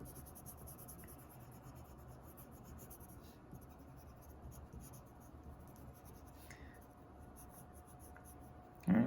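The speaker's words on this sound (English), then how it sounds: "go back in with the pencil over the color, and it'll kind of really add a little bit more depth to your piece" A pencil shades darker over a coloured drawing of a rose, with soft, steady, close scratching strokes that stay faint throughout and end in a brief thump.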